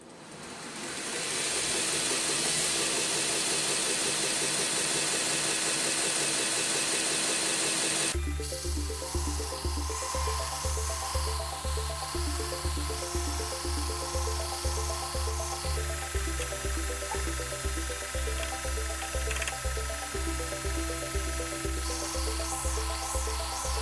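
Belt grinder flattening an 80CrV2 steel knife blade, a loud continuous abrasive whine from a steady motor drone, with the tone shifting partway through as the blade presses harder against the belt.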